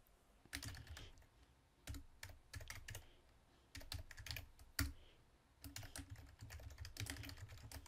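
Someone typing code on a computer keyboard: quiet, close bursts of rapid key clicks with brief pauses between runs, soft thuds of keystrokes carrying steadily to the end with no talking.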